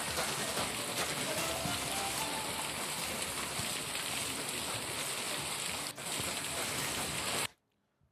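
Heavy, continuous rain pours down in Chikkamagaluru, a dense, steady hiss of drops hitting surfaces that holds for several seconds before cutting off abruptly.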